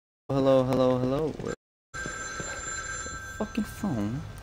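A telephone rings in the horror video game The Evil Within 2, a sustained electronic ring following a brief moment of silence, with a person speaking and vocalizing over it.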